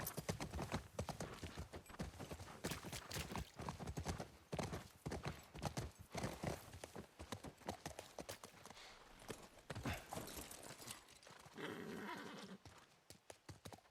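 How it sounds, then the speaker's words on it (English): Horse hooves clip-clop in a zombie survival video game, a quick irregular run of clattering steps through most of the stretch, fairly close and moderately loud, with a brief whinny-like burst near the end. "I like that there's the horse."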